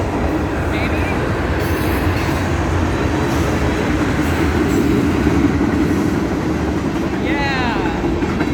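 A train rolls past nearby, a loud continuous rumble with a brief wheel squeal near the end.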